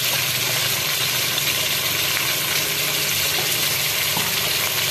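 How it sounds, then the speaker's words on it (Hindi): Garlic-ginger paste frying with beef and onions in a pan for a Pakistani restaurant-style beef curry, a steady, loud, dense sizzle that holds evenly throughout with no talking. "टू टेबलस्पून लहसुन अदरक का पेस्ट डाल रहे हैं।"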